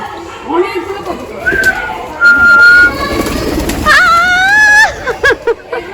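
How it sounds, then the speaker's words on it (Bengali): Domestic pigeons kept at a family home call and coo in short bursts, mingled with people talking nearby. "কবুতরগুলো একটু দেখাই আপনাদেরকে"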